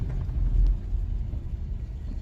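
A parked truck's engine idling, a steady low rumble close by with no talk over it.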